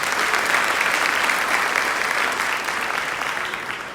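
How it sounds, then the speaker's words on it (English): Gala audience applause, a dense, steady wash of many hands clapping at moderate distance, slowly tapering toward the end with no voices on top. "give yourselves a round of applause"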